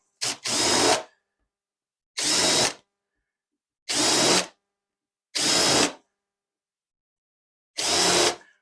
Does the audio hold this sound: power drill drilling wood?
yes